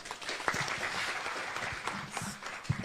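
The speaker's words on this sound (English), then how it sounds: "Let's clap for her." Audience clapping at a presidential address in a Nairobi conference hall, a moderate, somewhat distant patter with a few sharper claps and a faint voice underneath.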